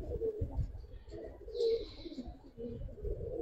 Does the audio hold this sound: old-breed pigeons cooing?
yes